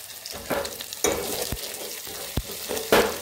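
Onion, ginger and garlic paste with curry leaves frying in a metal pot, a continuous close sizzle broken by several sharp scraping strokes of a spoon stirring against the pot.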